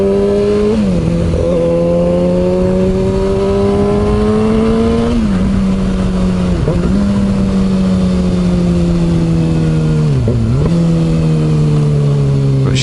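Kawasaki ZX6R motorcycle engine revving loud and close, holding a steady drone that dips and climbs through several gear changes and throttle blips during a test ride.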